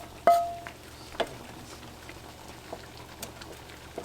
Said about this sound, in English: Then we're gonna let this boil for another good 5 minutes.